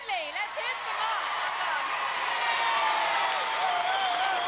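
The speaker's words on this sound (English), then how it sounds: "if there's any applause going, Wolf will take it" A studio audience at a 1994 Gladiators UK heat cheers and applauds at a moderate distance, a continuous crowd roar with whistles and voices rising through it over about four seconds.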